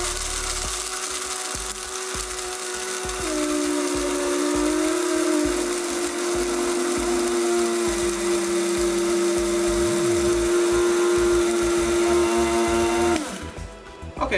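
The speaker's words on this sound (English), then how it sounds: "Now our espresso grind with our smaller amount of beans will take anywhere from 12 to 15" A coffee grinder grinds a small amount of espresso beans to a fine espresso grind, a loud steady whirring drone whose pitch shifts slightly as the beans break down, then cuts off near the end.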